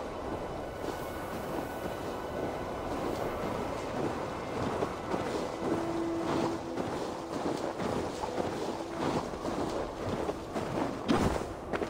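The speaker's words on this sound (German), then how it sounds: "Der Wind aus Helheim." Howling wind from Helheim blows through a snowy scene in the video game Assassin's Creed Valhalla, a continuous rushing, buffeting roar with gusty swells and brief crackling bursts, heard alone without voices.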